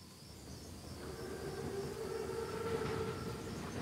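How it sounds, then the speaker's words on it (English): A German armored train, or Panzerzug, in the Call of Duty mission S.O.E. rolls steadily past with a low rail rumble and faint whistling tones, with no talking. "Train's right on time."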